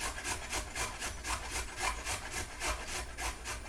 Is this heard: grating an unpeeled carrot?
yes